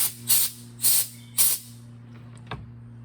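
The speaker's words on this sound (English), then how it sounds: "I'm going to hit this a little bit of compressed air" Three short, sharp bursts of compressed air hiss into the base of a Baratza Encore coffee grinder, evenly spaced and close, followed by a small click, with a low steady hum underneath.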